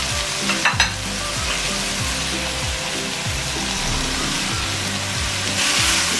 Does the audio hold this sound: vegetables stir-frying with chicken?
yes